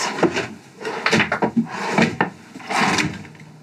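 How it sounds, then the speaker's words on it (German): Soft-close wooden drawers in a DIY camper van kitchen are opened and closed several times in a row, giving close sliding rumbles and muffled thuds with short pauses between. "Insgesamt vier Schubladen haben wir jetzt verbaut. Alle auf so Soft-Close-Schienen."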